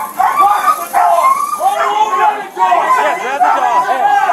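A dog barks repeatedly in a loud, steady series of yips and barks during a police arrest outdoors, with several people talking and chattering over it throughout.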